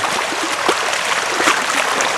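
Stream water running downhill across a meadow on an off-grid property: a loud, close, steady rush and burble with small splashy bursts, no voices over it.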